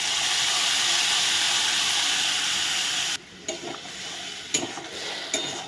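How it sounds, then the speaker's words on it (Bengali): Spice paste hits a pan of fried onions with a loud steady sizzle and hiss that drops off sharply partway, followed by quieter sizzling and a few scraping stirs. "মশলার পেস্টটা একটু ভালো করে কষিয়ে নিতে হবে।"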